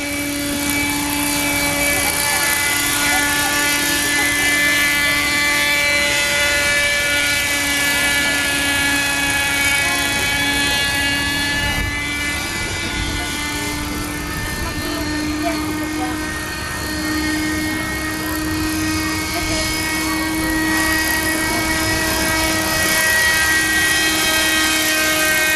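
An RC helicopter flies and lands at Virac Port in Catanduanes, its close rotor and motor giving a steady, loud, tonal whine throughout.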